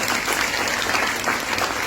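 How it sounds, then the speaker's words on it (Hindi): An audience at a weight loss workshop claps together in a brief burst of dense, steady applause, fairly close and with no speech over it. "इस बात पे ताली होनी चाहिए।"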